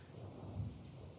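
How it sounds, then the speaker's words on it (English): On an overcast December day under the Texas sky, a storm rolls in, with soft, distant rain and a faint, low thunder rumble that holds steady throughout. Nobody speaks. "The rain rolling in."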